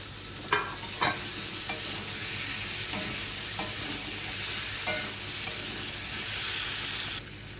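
Fried elephant foot yam pieces go into a spiced masala in a pan, giving a steady close sizzle with scraping stirs and a few sharp clacks of the spatula, running on alone without talk.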